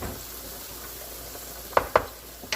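Metal spoon scraping garlic off the bottom of a pot during cooking of a yellow split pea chowder with smoked meat, a few sharp scrapes over a steady sizzle, close and alone.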